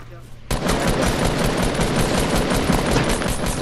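Automatic gunfire in the video game Fortnite bursts in after a brief quiet moment and keeps going as a loud, dense, continuous rattle of rapid shots.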